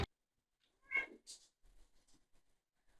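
A cat meows in the VTMB Final Nights mod, one short, faint meow followed by a few soft, scattered chirps against near silence.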